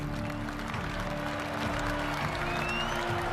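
A jubilant crowd outside the White House celebrating the Union victory claps and cheers in a steady wash of applause, dense and continuous, with a faint voice or two carrying over it.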